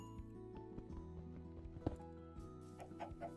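Minecraft chicken clucking in the game, a few short clucks over steady game music with a brief louder blip midway, fairly faint.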